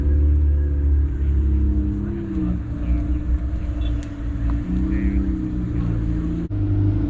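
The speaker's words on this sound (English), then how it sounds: "And the cars keep rolling in." Car engines rumble and hum as vehicles roll in to a large open house event, a steady low drone of nearby motors passing that holds throughout, with faint background voices.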